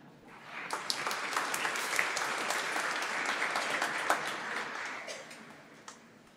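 A church congregation at a thanksgiving Mass, St. Barnabas Church in Pamulang, claps together, the applause rising quickly, holding as a dense, sustained patter, then fading away with a few scattered claps.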